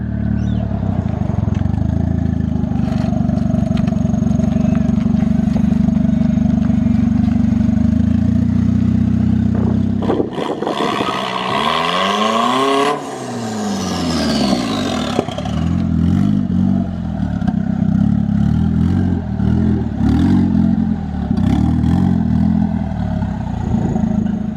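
A Mitsubishi Evo fitted with a 4G93 SOHC turbo engine pulls away from a standing start, its engine climbing loudly through the revs, dropping briefly at a shift, then rising again with a rattly, clattering undertone.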